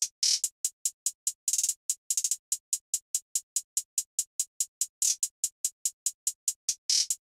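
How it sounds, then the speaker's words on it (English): A hi-hat pattern programmed in FL Studio for a hard-hitting trap beat: rapid, evenly spaced bright ticks with a few louder accented hits and short rolls, crisp and close, with no voice. "So I have this hi-hat pattern right here that I drew in."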